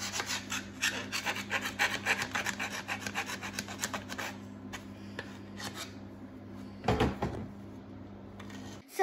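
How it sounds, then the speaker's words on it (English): Steady rhythmic rasping of a hand file scraping across wood, quick strokes close by, then quieter and sparser toward the end. "now I'm going to file this part"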